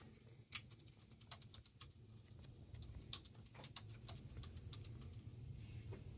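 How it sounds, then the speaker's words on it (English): Computer keyboard typing at a radio station, an album title being entered into playlist software: a run of quick, uneven clicks and taps close by over a low steady room hum, with no voices. "I'll type that in for you."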